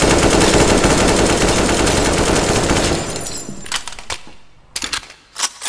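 An AK-47 fires in the video game Teardown as a loud, sustained burst of rapid automatic gunfire that stops abruptly, followed by scattered sharp cracks and breaking debris in quieter gaps.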